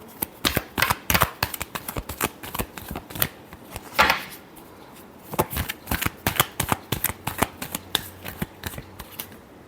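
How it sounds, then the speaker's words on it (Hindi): Tarot cards are shuffled by hand in a quick, steady run of crisp riffling flicks and slaps, close and fairly loud, with a brief pause near the middle before the shuffling resumes. "Last shuffle."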